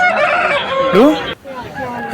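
A red-coloured aseel rooster at a poultry market in Nallapadu lets out a loud, close crow, with other fowl clucking around it and a busier market din before the crow fades into quieter background.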